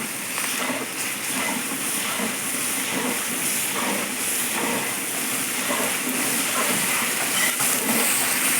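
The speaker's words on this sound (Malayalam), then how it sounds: "നമ്മുടെ ഇഞ്ചി വെളുത്തുള്ളി പേസ്റ്റ് നമുക്ക് ഇട്ട് കൊടുക്കാം എന്നിട്ട് ഇതും കൂടി എല്ലാം കൂടി ഒന്ന് നന്നായിട്ട് വഴറ്റാം" Ginger garlic paste sautéing in a pan while kantari chilli pickle is made, giving a steady, continuous hissing sizzle that holds at an even level without pauses.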